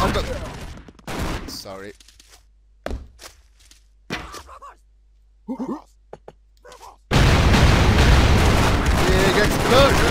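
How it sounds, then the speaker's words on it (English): Gunfire and explosions from the video game Expendabros: sharp, isolated bangs and booms between stretches of silence, then a dense, continuous barrage of shooting and blasts. A player talks briefly over the early part. "Big explosions! A lot of gunshots!"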